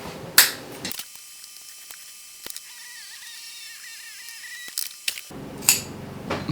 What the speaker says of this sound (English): Next thing I'm going to do is cut the waistband out. So same thing, cut on the seam.